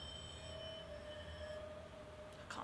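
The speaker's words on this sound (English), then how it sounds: "Was that a train?" High metallic squeal of train wheels in The Quarry video game, a sustained shrill tone with overtones held over low rumble, fading after about 1.5 seconds, with a brief hiss near the end; no talking.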